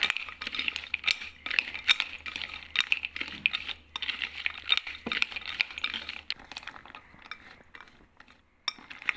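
Peanuts tossed in a bowl with turmeric, chili powder, fennel powder and salt make busy clinking and scraping as they are stirred, a fairly steady patter that thins out toward the end.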